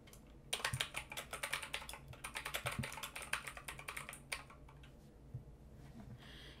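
A note is typed on a device keyboard in a steady, rapid run of close, light key clicks that slows and trails off into a few scattered taps near the end.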